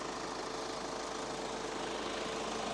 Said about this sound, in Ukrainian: Мотор працює чітко, рівненько, без будь-яких питань.